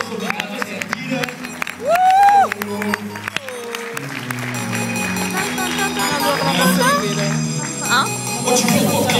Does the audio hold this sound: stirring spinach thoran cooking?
no